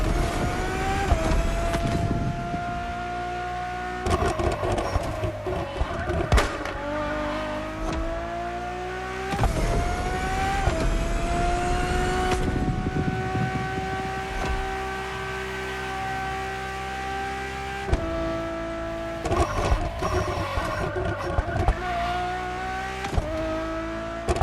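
A Ferrari supercar in the racing game The Crew Motorfest roars loudly and continuously, its engine pitch climbing through repeated gear changes with brief dips between shifts.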